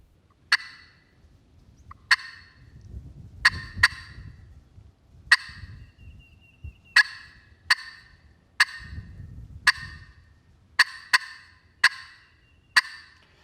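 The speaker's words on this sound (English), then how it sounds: "Next one I want to work on is one of the most basic ones, and that's a cluck." Sharp, isolated turkey clucks struck on a glass or slate friction call, about a dozen crisp pops spaced irregularly, close and clear over faint handling noise.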